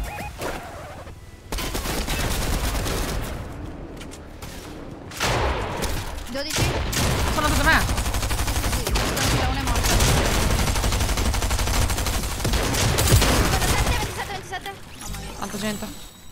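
Heavy, continuous gunfire with rapid bursts and booms from a video game, loud and dense, with a voice talking over the shooting.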